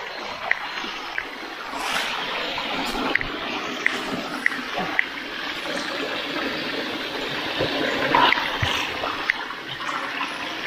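A flowing stream reached after a forest hike gives a steady, moderate rush of water throughout, with a few faint clicks and splashes on top.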